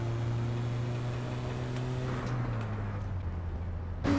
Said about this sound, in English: This van sounds like it's about to explode.